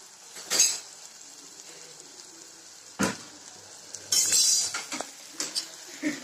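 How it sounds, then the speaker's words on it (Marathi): Onions being stirred in a pan for paneer bhurji, with a steady low sizzle broken by a few sharp scraping and clinking strokes of the spoon against the pan, close. "चांगलं हलवून घेते."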